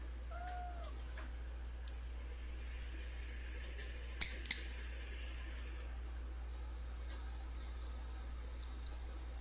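A cat gives a couple of short, faint meows near the start during a night stroll, over a constant low hum, with a few brief sharp clicks later.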